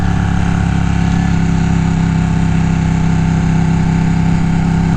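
Ducati Panigale 1199S Tricolor superbike engine running steadily while riding, a loud continuous drone with a strong low hum and a sustained mid-pitched tone, no voices.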